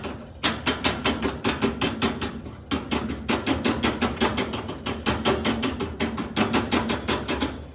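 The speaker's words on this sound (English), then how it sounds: "I'll just take a hammer, and that gets all the ash to drop down" Repeated hammer strikes knock ash loose inside the ash bin of a Masterbuilt Gravity Series 1050 charcoal smoker-grill, a steady run of sharp metallic raps, close and loud, with one brief pause partway through.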